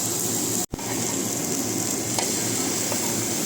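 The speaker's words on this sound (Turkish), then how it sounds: "Sosumuz da kaynıyor." A steady, close sizzle of sauce bubbling in a hot pan, with a brief clatter partway through.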